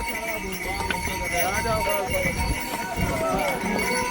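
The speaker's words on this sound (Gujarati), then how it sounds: "અને હું બેઠો છું ઘોડા ઉપર." Horse hooves clip-clop steadily while riding up the snowy Kedarnath trek, close and continuous beneath a busy outdoor mix of voices and background chatter.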